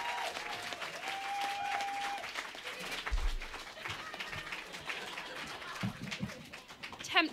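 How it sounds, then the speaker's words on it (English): An audience at a live performance in a club room gives sustained applause to the singer, heard at a moderate distance, with a few voices and movements mixed in. "So give a huge round of applause"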